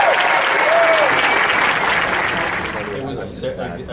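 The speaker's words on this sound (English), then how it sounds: "one last big round of applause" Loud applause from a convention panel audience at Dragon*Con, dense and sustained, fading slightly toward the end as a few voices come through.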